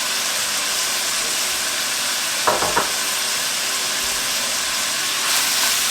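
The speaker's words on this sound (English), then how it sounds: "So we're just going to cook these spices for a minute or two just to help develop the flavor of the spices" Chili powder, cumin, paprika and oregano sizzle steadily in a pan for taco tortilla soup, a constant hiss with a couple of brief scraping stirs near the middle and no voices.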